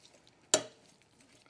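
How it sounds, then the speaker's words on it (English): Green beans stirred in a pot while steaming: a single sharp clatter of a utensil against the pot, then quiet kitchen background with faint sounds. "Let's give those green beans a stir."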